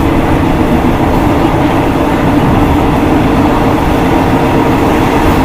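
From inside a train on the Death Railway at the Kwai River Bridge, Kanchanaburi, a loud, constant low rumble of wheels and carriage runs without a break.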